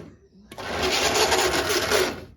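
A Marx toy train runs dry despite fresh oiling, giving a loud, steady mechanical whir and rattle that starts abruptly and holds for about two seconds before stopping.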